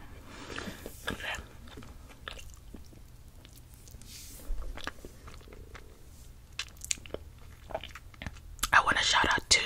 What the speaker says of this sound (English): So I'm just going to eat as much as I can and then share with my husband later.